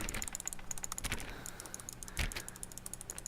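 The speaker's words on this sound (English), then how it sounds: "I'm actually clicking with my 2 hands now." Rapid, relentless computer mouse clicking from two hands at once while playing The Stanley Parable, a dense stream of sharp close clicks with a few heavier thumps.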